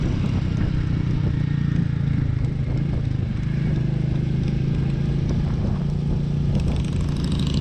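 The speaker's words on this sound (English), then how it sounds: "The engine is an air-cooled 349cc single cylinder." Royal Enfield Meteor 350 motorcycle, a 2021 model with an air-cooled 349cc single-cylinder engine, running steadily with a low, continuous throb and some clatter throughout, loud and close, with no voices.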